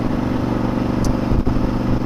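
A Honda XL1000 Varadero motorcycle's V-twin engine runs close by with a loud, steady drone as it accelerates on muddy roads, the note rising slightly.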